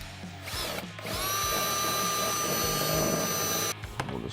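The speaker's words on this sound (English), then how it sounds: "where we need to drill our next hole at" A power drill whines steadily for a few seconds while drilling a hole in plastic, its motor pitch holding high and even, with brief pauses at the start and end.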